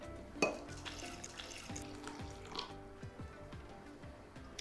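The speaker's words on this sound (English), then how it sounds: "Add your hot water." Hot water poured into a glass cafetière over coffee grounds and cinnamon sticks, a soft, continuous trickling and gurgling stream, close but quiet, with a light knock at the start and no talk.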